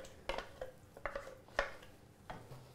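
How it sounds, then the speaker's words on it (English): Mashed banana is stirred into natural yogurt in a bowl, heard as a few soft, wet spoon strokes and clinks against the bowl, close and quiet. "just mix the banana with the natural yogurt"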